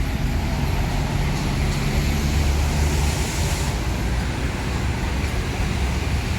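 Steady road traffic rolls past a bus terminal on a wet road after heavy rain, a continuous dense rumble of cars, buses and trucks at moderate loudness with no breaks.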